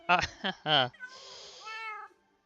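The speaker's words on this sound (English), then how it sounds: "Yeah, the cats are meowing." Cats in Minecraft Bedrock Edition meow three times in quick succession, close and clear, followed by a softer drawn-out mew.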